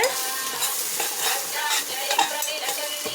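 A spoon stirring ven pongal with asafoetida in a pot on the stove, soft scraping strokes over a light sizzle, close and fairly quiet with no voices.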